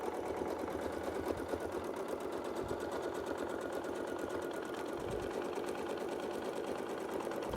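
A domestic sewing machine piecing quilt blocks with a Westalee Gateway Flying Squares ruler, running at a steady, even speed in a continuous close whirring hum without a break.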